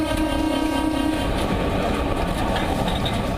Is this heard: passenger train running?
yes